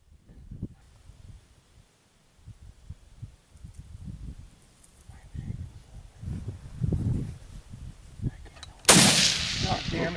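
A hunting rifle discharges accidentally during a mule deer hunt in eastern Colorado: one loud, sharp crack near the end, preceded by faint low thuds and rustling outdoors.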